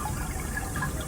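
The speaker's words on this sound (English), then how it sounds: "can hear like bubbling water, and it's not really, this is a speaker" Recorded bubbling river water played from a speaker at a river replica, a continuous close gurgling wash with no pauses.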